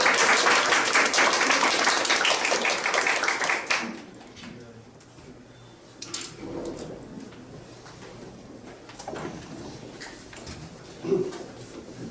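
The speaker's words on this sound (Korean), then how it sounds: "박수 한번 부탁드립니다." An audience at a startup forum claps steadily for about four seconds to welcome a speaker to the stage, then the clapping fades into quiet room noise with scattered shuffles and faint murmurs.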